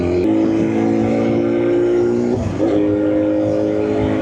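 A BMW S1000RR sportbike with its original exhaust is ridden in India. Its engine holds a loud, close, steady tonal drone, with a brief dip and shift in pitch midway as the revs change.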